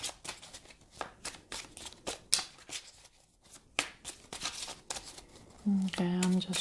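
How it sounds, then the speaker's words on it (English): Tarot cards being shuffled by hand make a soft, quiet, irregular riffling and flicking, with a short spoken word near the end. "I'm just shuffling so I can"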